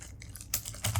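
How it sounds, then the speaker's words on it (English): Keys clatter on a computer keyboard in quick, uneven bursts, close and fairly quiet, with a couple of louder clustered strikes near the end and no talking. "So I'm just typing"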